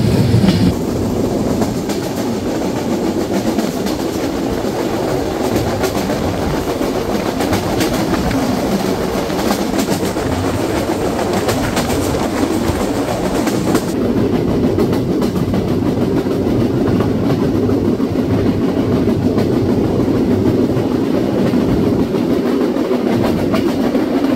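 Kapotaksha Express passenger train on a Bangladesh rail journey to Pakshi, running on rails with a loud, steady rumble and continuous clickety-clack of wheels throughout, heard up close from aboard.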